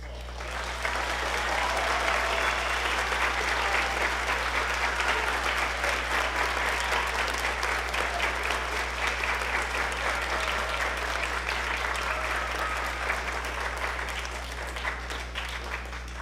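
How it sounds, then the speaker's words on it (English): A school concert audience applauds graduating seniors at a spring band concert, with sustained, full clapping from a large crowd lasting over fifteen seconds before gradually thinning, over a low steady hum. "Let's give these seniors one more round of applause."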